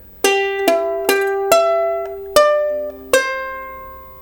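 Ukulele picking an opening melody, six clear plucked notes ringing one after another at a slow, even pace, close and alone with no talking.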